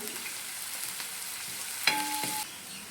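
Onion, shallots and garlic frying in oil with mustard seeds for a kovakka (ivy gourd) stir-fry, a steady close sizzle with a brief clink of a utensil near the end.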